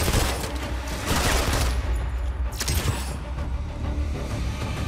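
Gunfire in the mobile shooter game Modern Combat 5: dense, continuous bursts of rapid shots and loud blasts, steady and close throughout, with no voice over them.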